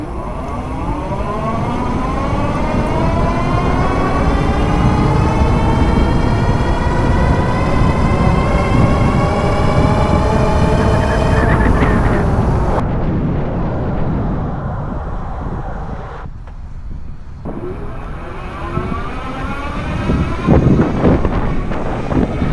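Two electric scooters, an Aniioki A9 Pro Max dual-motor and an Eaphora Romeo Pro 2, accelerating head to head: a loud rising electric motor whine climbing in pitch under heavy wind roar, then dropping away and rising again.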